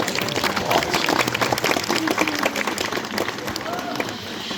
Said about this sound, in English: can we get a round of applause for our dogs?